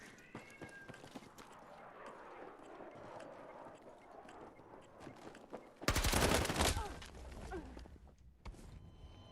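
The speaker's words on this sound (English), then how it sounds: "That was not the gun, that was my claymore" A claymore mine blast in the Battlefield 6 shooter, a sudden loud burst arriving partway through after quieter in-game gunfire and noise, then decaying into a low rumble.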